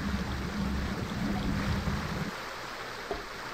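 Continuous rushing water flowing down a tunnel in the video game 7 Days to Die, a dense steady hiss with a low churning rumble that drops away partway through, leaving a thinner trickling wash.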